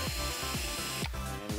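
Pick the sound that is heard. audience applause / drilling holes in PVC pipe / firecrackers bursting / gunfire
drilling holes in PVC pipe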